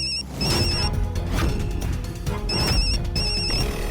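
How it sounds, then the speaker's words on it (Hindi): A mobile phone rings loudly and close, its bright electronic ringtone repeating in pulsing bursts over a busy background for the full four seconds. "ये फोन बज रहा है"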